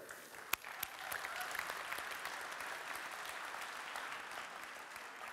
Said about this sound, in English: So an applause for the brave volunteer.